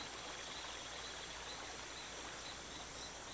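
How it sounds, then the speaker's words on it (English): A steady broadband rush of a flowing hot stream feeding a boiling river, constant and fairly faint with no voices. "here's the boiling river."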